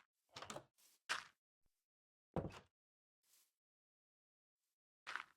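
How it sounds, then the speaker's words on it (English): Minecraft door opening and closing inside a player-built base: a handful of short, distinct wooden thunks and clacks spaced across a few seconds, with quiet gaps between them and no talking. "I just heard a door open and close"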